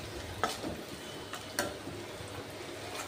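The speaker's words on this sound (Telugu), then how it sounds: "ఇంకా అందులోనికి సరిపడినంత పసుపు వేసుకొని మొత్తాన్ని కలుపుతున్నాను" Fried onions mixed with turmeric in a pan: faint, low sizzle with a few sharp spoon clicks against the pan, quiet and close, no talking.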